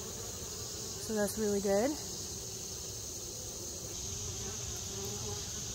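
Honeybees hum steadily and continuously at a hive entrance while returning with pollen. A person speaks briefly over the buzzing early on.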